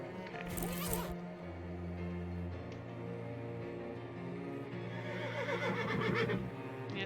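A horse in the video game Shadows Over Loathing whinnies twice, a short high neigh near the start and a longer shaky one near the end, over low game background sound.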